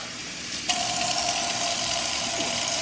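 Water gushing into a portable washing machine: a steady hiss of pouring liquid that jumps louder as the flow opens up and keeps running evenly to the end, close and alone.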